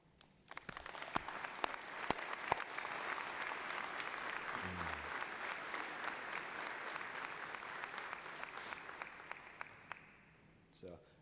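Graduates of a police academy class receive applause at their graduation ceremony, a broad, steady round of clapping from a large audience that swells and then tapers off, heard from a distance.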